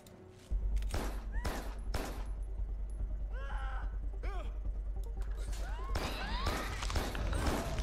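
Enemy gunfire in Carrion, scattered sharp shots and crashes amid screams and chaotic creature noises, loud and repeated across the scene.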